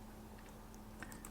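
A few faint key clicks from a computer keyboard while a Linux command is typed at a Kali Linux terminal. The clicks sit over a steady background hum, with a couple of brighter taps near the end.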